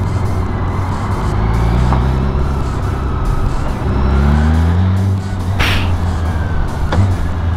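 Engine of a BMW K1600 six-cylinder touring motorcycle, heard loud and close while riding, its steady drone dropping in pitch through smooth downshifts made with the shift assistant pro.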